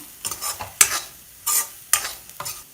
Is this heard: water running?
no